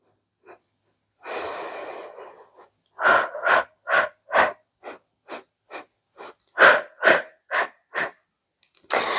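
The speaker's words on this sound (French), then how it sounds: "J'inspire sur 4 ou 5 temps et je souffle sur 4 ou 5 temps." Steady rhythmic breathing during a Pilates exercise: one long inhale, then a series of short, sharp exhalations in an even pulse, close and clear with no talking.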